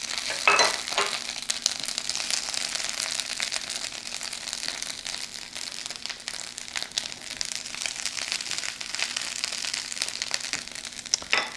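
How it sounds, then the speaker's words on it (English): Thawed, drained chopped spinach sizzles and crackles in a hot pan as it dries out, a steady hiss of frying with occasional stirring scrapes, no speech. "So I'm going to put that in the pan. I want to dry it out just a little bit first."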